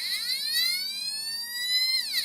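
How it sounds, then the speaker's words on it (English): An electronic siren from a light-dependent-resistor astable circuit prototype sweeps upward in a steady rising tone, then drops near the end. It is loud, buzzy and rich in harmonics, with no talk. "But we kind of got a siren."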